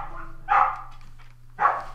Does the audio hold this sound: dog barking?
yes